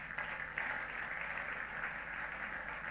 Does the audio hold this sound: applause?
yes